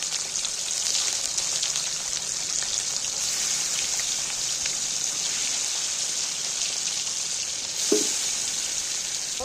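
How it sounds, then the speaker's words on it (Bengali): Marinated sea tengra fish pieces sizzling steadily in hot oil seasoned with salt and turmeric, a continuous close hiss and crackle throughout with a brief louder pop near the end. "এইবার আমি ম্যারিনেট করা মাছগুলো একটা একটা করে তেলের মধ্যে তুলে দিই"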